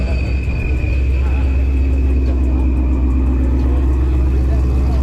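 A Fox-body Ford Mustang runs on a chassis dyno at a night muscle car event, giving a loud, steady, close engine rumble that holds constant throughout, with indistinct voices in the background.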